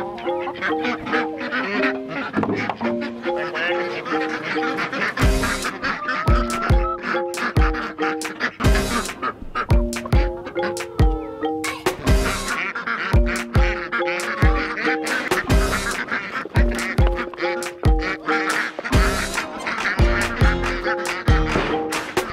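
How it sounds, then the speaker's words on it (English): Ducks let out of a duck tractor at a yurt homestead, honking and quacking loudly and continuously at close range, a busy chorus of overlapping calls throughout. "let's go ahead and let out the ducks that we put in the duck tractor overnight"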